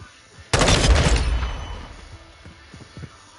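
Burst of rapid gunfire from a weapon in a shooter video game, a loud dense volley lasting about a second that trails off, followed by a few faint thuds.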